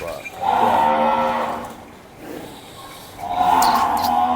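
Cattle low at a livestock market, two long deep moos separated by a short pause, loud and close over faint background noise.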